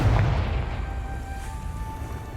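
A Confringo fire spell in Hogwarts Legacy goes off as a deep, booming blast at the start, then its low rumble decays into a steady hum over the next two seconds.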